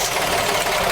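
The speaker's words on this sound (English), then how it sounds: "so now Mike is going to start the engine" A Volvo Penta diesel engine aboard a sailboat runs just after starting, a steady, close, loud mechanical clatter with knocking texture filling the short moment.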